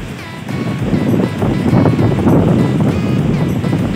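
Strong gusty wind during rainy typhoon weather on Good Friday, heard from a fifth-floor height, roars and buffets the microphone in a loud continuous rush with rough low-frequency blasts.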